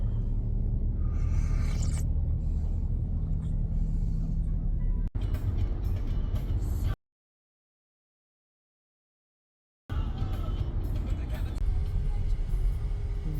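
Steady low rumble inside a car driving in the evening, a constant road and engine drone with broadband noise above, cut off by a few seconds of silence before resuming; talk is heard over it.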